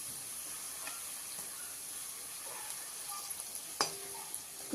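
Karanji pastries deep-fry in oil over a low flame, giving a steady, close sizzling hiss with small pops and occasional stirring clinks.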